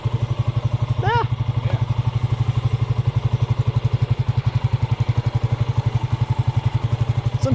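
A 1987 Yamaha SRX 250 single-cylinder motorcycle idles after a cold start with a loud, close, steady rapid thumping pulse that stays even throughout, with a brief squeak near the start.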